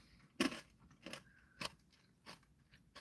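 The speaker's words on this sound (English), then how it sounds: "Am I crunching too loud? I don't know. I mean, they are crunchy cracker nuts" Crunchy cracker nuts being chewed close to the mic, with a few loud, sharp crunches spaced irregularly across about three seconds and quieter chewing between them.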